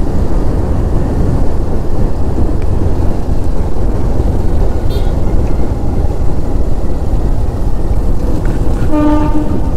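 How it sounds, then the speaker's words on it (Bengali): A freight train rolls past a closed level-crossing gate, its rumble loud and continuous throughout, with a tonal horn-like sound rising near the end; no speech is heard. "গেট পড়া আছে আর মালগাড়ি পেরোচ্ছে।"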